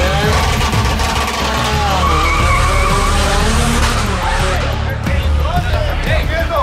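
A Rally R all-wheel-drive car launches in a street race: a loud engine roar rises through rapid gear pulls as the tires skid, with excited voices talking over it the whole time.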